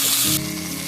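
A cup of water poured into hot, oil-rich fried curry masala for an egg and yogurt curry sets off a loud burst of hissing sizzle that quickly settles into a lower, steady bubbling fry, close up.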